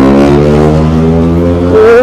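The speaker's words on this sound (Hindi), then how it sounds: "ओ भाई क्या ये आवाज है यार इसकी बाइक की, माँ कसम" A motorcycle exhaust revs loudly close by on a road ride toward Balaji Tirupati temple, a sustained throaty engine note that dips slightly and then rises sharply at the end.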